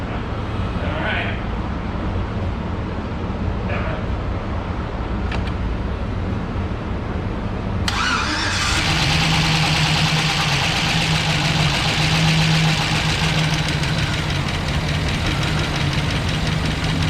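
A car engine in a speed shop catches and settles into a steady, loud idle that runs on for several seconds, with a rising whir just before it fires.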